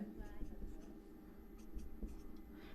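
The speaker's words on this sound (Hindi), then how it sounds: "इसको तो हमें लिखना है तो इसको हम लिख लेते हैं।" Pen scratching steadily across paper while a class 10 trigonometry solution is written out, soft continuous strokes with faint rustles, heard close up beneath a man explaining the working aloud.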